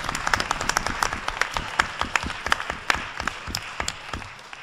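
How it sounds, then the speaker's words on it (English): An audience at a panel discussion gives a round of applause, dense steady clapping from many hands close by, holding through the whole stretch and tapering slightly at the end. "I hope you'll join me in a round of applause to thank them for their work"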